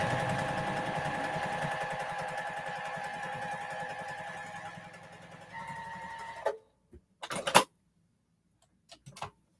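A sewing machine stitches a quilt block seam at a steady, rapid whirring rhythm for several seconds, then stops abruptly, leaving a few brief clicks and knocks in near silence.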